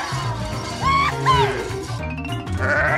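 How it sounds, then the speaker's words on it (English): Cartoon sheep on a farm gives two short, wavering bleats near the middle, over light background music and effects, with more bleat-like calls toward the end. "This is a sheep."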